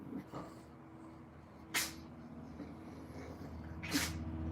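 Two sharp sneezes, the first at about two seconds and a second near four seconds, burst out of a quiet room with a low steady hum beneath them.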